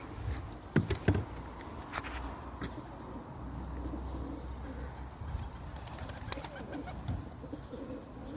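Pigeons coo while eating a seed mix with peanuts and sunflower seeds, giving soft repeated low calls close by, along with a few sharp flutters or pecking clicks early on and some faint background bird sounds.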